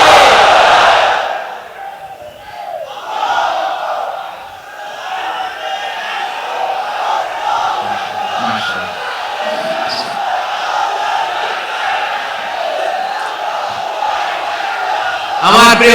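A large crowd at an Islamic sermon by Mizanur Rahman Azhari answers the takbir with a loud, sustained, unified shout. The chant rolls on in long swelling waves across the whole gathering.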